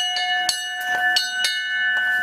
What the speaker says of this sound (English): This is the bell of the dinner.